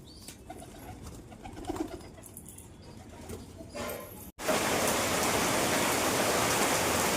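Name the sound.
heavy rain falling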